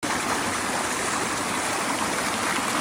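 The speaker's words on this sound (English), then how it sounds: "You ever hike down a waterfall?" Water streams steadily down an Adirondack hiking trail in the rain, a continuous close rushing and splashing like a small waterfall, loud and unbroken throughout with no voices.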